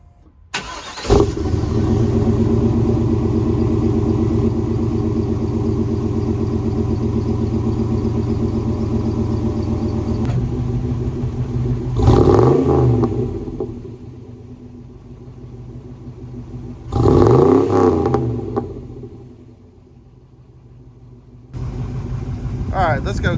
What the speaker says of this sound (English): Haven't started the vehicle up today yet, so this is technically a cold start